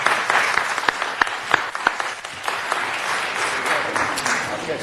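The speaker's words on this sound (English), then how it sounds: "Please, round of applause for our new general manager." Applause breaks out at a city council meeting to welcome a new general manager: a room of steady, scattered clapping with a few sharper individual claps standing out, carrying on for several seconds at moderate loudness.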